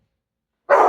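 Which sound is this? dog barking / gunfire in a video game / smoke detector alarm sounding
dog barking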